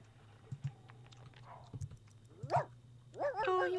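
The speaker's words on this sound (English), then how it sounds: "It just keeps barking at the door." A stray dog in The Sims 2 barks at the door with a few scattered barks over a low game hum and soft clicks, followed by a rising burst of game sound at the end.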